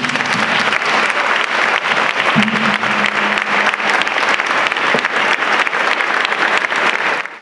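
Loud, sustained applause from an audience at a recognition ceremony held by Fundación Sebastián, dense even clapping for several seconds with a faint low tone partly underneath, fading at the very end.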